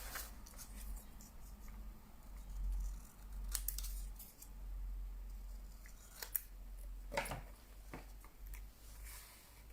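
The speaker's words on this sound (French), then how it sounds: "je vais venir couper un peu plus près le papier laiton" Scissors snip through thin brass paper while a handmade pop-up mini album is trimmed, giving a few sharp close cuts over a quiet background with no voices.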